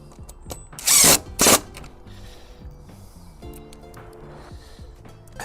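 A power drill drives screws into a garden gate hinge in two short, loud whirring bursts close by, followed by quieter handling clicks and knocks. No voices are present.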